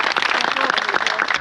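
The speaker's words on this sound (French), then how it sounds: "Je voudrais quand même que tout le monde applaudisse notre autre capitaine qui nous a mené à bon port." An audience at a commemoration gathering at a Harley-Davidson dealership in Poitiers applauds the captain, a short, dense, close burst of many hands clapping at once.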